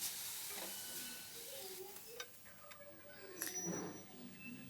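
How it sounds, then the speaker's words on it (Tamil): Tomato paste sautéing in hot oil, a soft steady sizzle with a few stirring scrapes and faint clinks from the pan, fairly quiet throughout. "தக்காளி நல்லா அரைச்சிக்கோங்க, அதையும் சேர்த்து நல்லா வதக்கிக்கோங்க."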